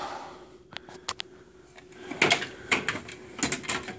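A metal Harbor Freight tool cabinet drawer full of drill bits slides open with rattling clatters and a few sharp knocks, close and loud.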